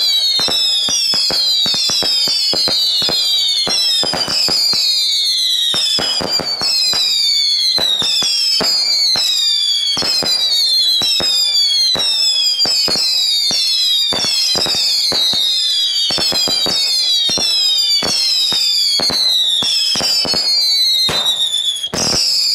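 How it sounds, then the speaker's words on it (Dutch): A firework cake goes off in a rapid, steady barrage of whistling rockets and sharp cracks, each whistle sliding downward, continuing loudly for over twenty seconds. "Het is een mooie cake van fluit naar effectknal"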